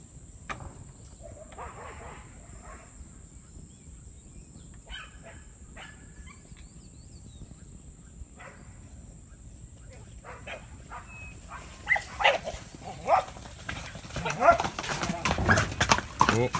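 Horses clip-clop on a cattle-working ranch, the hoofbeats building to a denser, louder patter near the end, with dogs barking and people talking around them.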